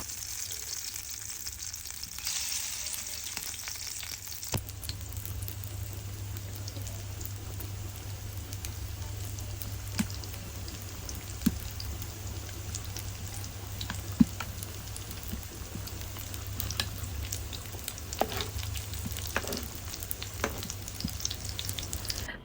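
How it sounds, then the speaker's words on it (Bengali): Shrimp fritter batter, mixed with salt and turmeric, fries steadily in hot oil, a continuous sizzle and crackle with small pops lasting the whole stretch, no voices. "এখন শুধু এই মিক্সচারের সাথে আমি অল্প পরিমাণে লবণ আর হলুদ গুঁড়ো মিশিয়ে জাস্ট ভাজার পালা"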